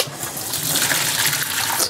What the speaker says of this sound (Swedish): Ta rödbetorna och bara hälla av vattnet här.